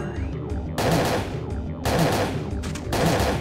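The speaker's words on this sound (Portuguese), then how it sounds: "vamos usar esse daqui, tiro energético, ó, pra aumentar a potência do tiro." Energy-shot gunfire in Parasite Eve 2 crackles in three loud, sustained bursts, each a long roaring blast separated by short quieter gaps.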